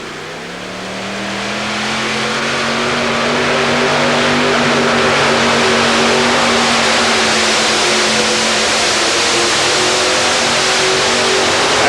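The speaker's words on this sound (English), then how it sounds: "the Ohio Gold tractor with the Rodak 546 cubic inch engines" The Ohio Gold modified pulling tractor with Rodak 546 cubic inch engines roars up to a loud, sustained full-power howl, its pitch climbing slightly during the pull at an indoor tractor pull.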